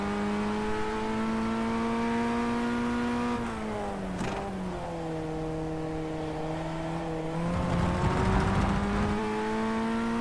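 A race car in the iRacing sim game drones through a corner, the engine note holding steady, dipping as it slows and then revving up again near the end, alone with no talk.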